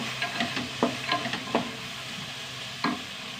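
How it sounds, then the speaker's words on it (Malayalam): A spoon scrapes and stirs soaked chickpeas in a pan with several short, irregular strokes over a soft, steady sizzle of frying. "കടല വഴറ്റുന്നോ"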